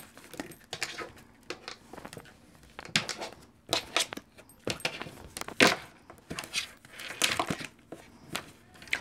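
Tarot cards being shuffled by hand, a close run of rapid papery riffles, flicks and soft slaps in irregular bursts, with a faint voice now and then.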